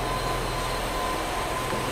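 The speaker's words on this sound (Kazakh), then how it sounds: "Міне электричка келді." An electric commuter train rumbles in a continuous, loud and steady drone with a faint high whine on top, sounding alone with no voices.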